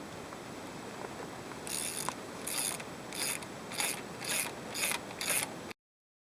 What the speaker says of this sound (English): take all the head bolts out